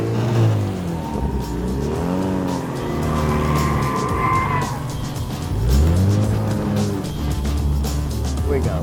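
A car at a New Orleans drifting school goes sideways, its engine revving in bursts and tires skidding and squealing loudly and up close, with people talking over it.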